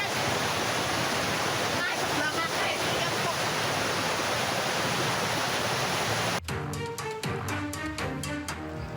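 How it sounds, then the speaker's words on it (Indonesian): Muddy floodwater mixed with quarry runoff rushes loudly over the Weleri–Temanggung main road in Kendal in a dense, continuous roar, then cuts abruptly to a quieter scene with scattered knocks. "Air bercampur lumpur dan tambang galian C yang ada di wilayah Weleri meluber deras ke Jalan Raya Weleri Temanggung."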